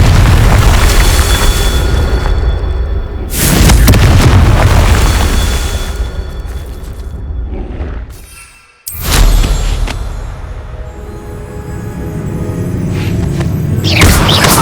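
A loud, booming spell blast from the Hogwarts Legacy video game fills the scene, with sustained roaring rumble, a brief drop to near quiet, then another heavy burst and continuing roar.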